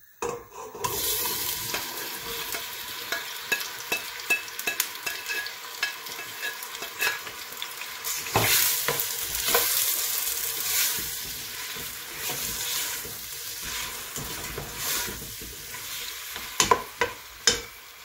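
Chopped onion, garlic and tomato frying in cooking oil on the stove, a steady close sizzle with bursts of crackle and occasional stirring scrapes, continuous and without voices.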